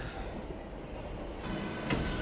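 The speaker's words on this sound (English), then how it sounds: "Even the train is very animated." A train rolls along in an anime episode, a continuous near rumble with metallic rail noise and a brief squeal toward the end, with no voices.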